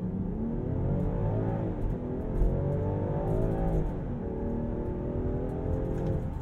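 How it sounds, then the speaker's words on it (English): A 2022 Land Rover Defender 110 in sport mode on all-terrain tires accelerates hard to 60 mph after a brake-boosted launch, its engine climbing in pitch through the gears with a steady, loud in-cabin drone and one audible upshift. "I want to see how quick the Defender gets to 60."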